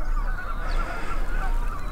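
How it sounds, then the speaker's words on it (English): Waterbirds call continuously across a lagoon at sunrise, honking, goose-like voices overlapping at a steady moderate level with no pauses and no talk. "You can hear the bird life in the lagoons here."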